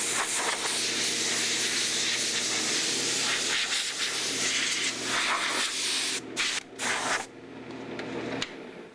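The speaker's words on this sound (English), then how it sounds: "I took it over to my air and then blew all of the dust out of the pores" Compressed air from a shop air hose blasts sanding dust out of the open pores of a guitar finish sanded with 320 grit, a loud continuous hiss that breaks off briefly twice near the end before resuming.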